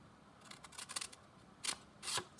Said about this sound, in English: what I'm going to do is cut to that perforated line there